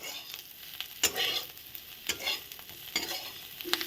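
A cooked filling being stirred in a hot pan, soft sizzling broken by several distinct scraping strokes of a spoon, close and without speech.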